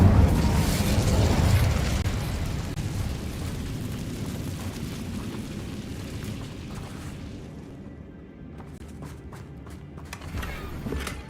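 An Incendio fire spell cast in the video game Hogwarts Legacy, a loud burst that rolls out into a long roaring, crackling rumble and slowly fades, followed by scattered light clicks and no talk.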